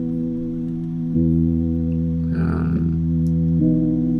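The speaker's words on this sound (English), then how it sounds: "another synth. Sounds like this." A synth preset built in Serum and processed with RC20 plays sustained, layered harmonic tones alone, shifting chords twice, with a brief noisy swell in the middle.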